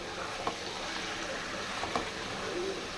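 Meat sautés gently in a pan on low heat, a soft, even sizzle with a couple of faint clinks from stirring, close but quiet.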